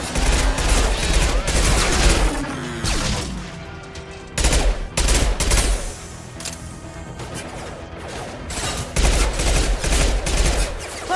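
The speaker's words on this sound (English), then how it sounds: "Firing concussive shot!" Mass Effect 2 combat: a concussive shot and bursts of rapid gunfire come in loud, dense volleys separated by brief quieter lulls, with chaotic battle noise throughout.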